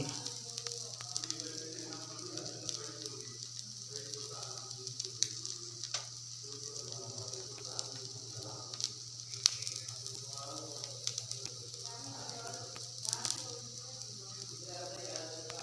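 Oil or ghee sizzling steadily on an onion podi dosa cooking on a hot griddle, a continuous close crackle with occasional pops while someone talks over it.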